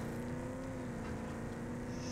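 Odd-looking vehicle driving in the video game Borderlands 3, a steady engine drone with a constant tonal hum, moderately loud and continuous throughout.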